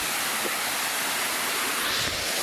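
Cold flowing water at an outdoor bathing spot rushes steadily and loudly, a continuous broadband wash of sound with no clear pauses and no talking.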